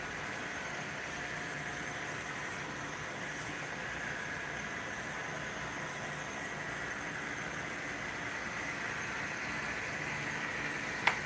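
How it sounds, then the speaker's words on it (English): Model railroad locomotive running on a club layout, a steady low mechanical hum with light rail clatter continuing evenly throughout, moderately faint, with one short click near the end. "I gotta slow down my engine real quick because I'm getting too close to him"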